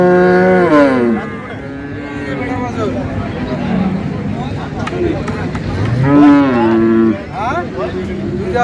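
Cows and calves at a rural cattle market in Dinajpur give several loud, drawn-out moos close by, one after another, with market chatter and voices underneath.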